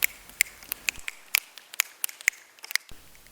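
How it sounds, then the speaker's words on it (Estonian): A run of crisp finger snaps, the Roman way of showing approval, about a dozen sharp clicks in a loose, uneven rhythm, close and clear against near silence, with no talking. "Roomlased nipsutasid selleks sõrmi."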